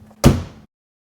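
A car door on an early Mercedes, freshly lubricated at the hinges and latch, swings open with a single solid thunk, short and close, then silence.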